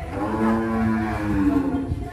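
A bull moos at a government dairy farm in Faridpur, giving one long, loud, low bellow that sustains for about two seconds and rises slightly in pitch toward the end.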